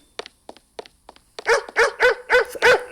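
Dogs bark in the BitLife life-simulation video game, first a few short, sharp, spaced barks, then a louder run of repeated, evenly paced barks close up.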